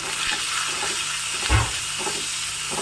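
Steady sizzling hiss of chopped capsicum frying in a hot oil tempering, with a brief low thump midway as something is stirred or added.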